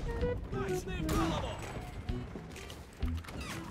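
Gunfire in the World War II shooter game Enlisted: a few sharp rifle shots crack at uneven intervals with brief battlefield clatter around them.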